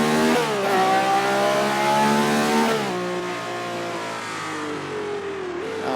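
A car engine revs hard while driven through corners, a loud, close, continuous whine that climbs, drops sharply at a gear change or corner, then holds at a lower steady drone.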